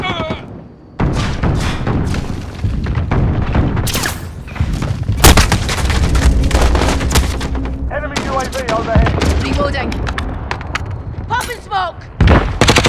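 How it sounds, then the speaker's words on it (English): Friendly precision airstrike explosions boom through a Call of Duty Modern Warfare Ground War battle, heavy blasts mixed with dense gunfire and chaotic combat noise, while voices talk and radio chatter runs throughout. "Be advised, friendly precision airstrike inbound."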